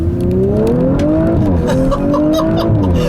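A 2018 Audi RS5's V6 engine revs hard and climbs in pitch as it accelerates held in first gear, loud and close, with a brief dip partway before pulling up again.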